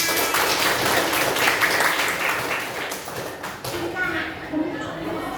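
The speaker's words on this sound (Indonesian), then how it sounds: "Oke, tepuk tangan." A group of schoolchildren in a classroom claps hands together, a dense burst of applause mixed with young voices that lasts several seconds before thinning out.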